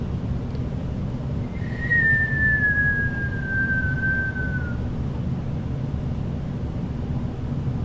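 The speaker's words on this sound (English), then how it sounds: "accompanied by a fading whistle and a poof" A single thin cartoon falling whistle glides slowly downward for about three seconds over a steady low rumble, then fades away.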